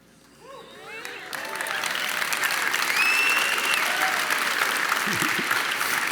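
A large audience at a Pepperdine University conversation event applauds Dr. Peterson, the clapping swelling from a quiet start into a sustained, dense roar, with a few faint whistles riding over it.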